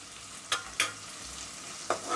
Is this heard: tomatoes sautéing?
yes